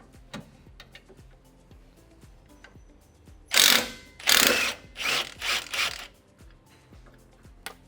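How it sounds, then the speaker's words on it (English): A 19 mm wrench and socket ratchet steadily on the lower shock bolt of a 2023 Nissan Frontier Pro-4X, a close rapid clicking broken midway by several loud rasping bursts. "we're going to use 19 wrench and socket to get that out"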